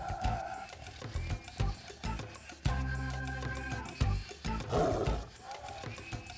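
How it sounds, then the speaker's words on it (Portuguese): A tigress in the Indian wild growls in repeated deep, rumbling bursts, loud and close, with a long sustained growl in the middle and a person speaking over parts of it. "Toda vez que ela rosna, está dizendo não se aproximem mais."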